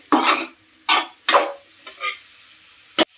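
A mung dal and ridge gourd mixture being stirred in a pot, heard as about six separate scraping strokes with short pauses between them, close and clear.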